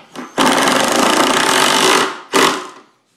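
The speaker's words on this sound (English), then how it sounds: "this is where it's okay to use a power tool to tighten those down" A power drill or driver tightens screws on an IKEA Expedit small cube storage unit, one long loud whirring burst of about a second and a half, then a shorter second burst after a brief pause.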